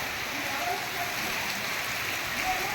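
Steady, dense rain falls hard on tiled clay roofing, a continuous close wash of drops that holds at one level throughout.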